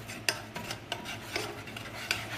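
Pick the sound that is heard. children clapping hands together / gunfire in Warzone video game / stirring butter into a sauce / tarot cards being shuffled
stirring butter into a sauce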